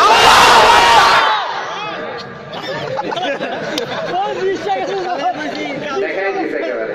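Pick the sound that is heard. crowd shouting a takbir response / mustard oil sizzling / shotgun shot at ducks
crowd shouting a takbir response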